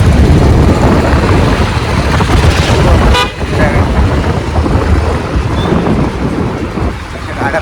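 Road traffic with fast vehicles rushing past, loud and close, a continuous roar of engines and tyre noise with a brief horn toot in the middle.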